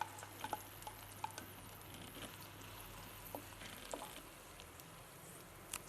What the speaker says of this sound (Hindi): इसे घी के अंदर ज़रा अच्छी तरह भून लेते हैं